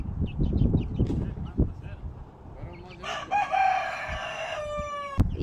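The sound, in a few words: chickens clucking and rooster crowing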